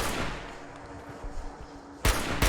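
Turret gunfire in Fallout 4, a few distant shots scattered through steady game ambience, then two loud close bursts near the end.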